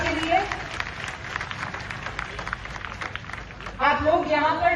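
Scattered applause from a crowd at a Hindu gathering in Udaipur fills the background, a patter of many hands, with a voice speaking over it near the end.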